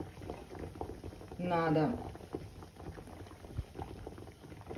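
Water bubbling at a rolling boil in a tall pot, a continuous close gurgle, with a short spoken word partway through.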